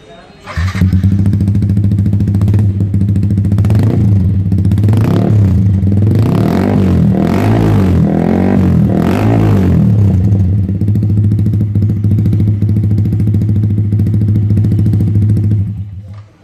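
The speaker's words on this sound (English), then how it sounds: "this exhaust sound more sporty, more aggressive and more loud than stock exhaust" A Yamaha R15 V3 motorcycle fitted with a full Daytona exhaust system revs loudly and close, rising and falling through several throttle blips over a steady idle for about fifteen seconds before cutting off.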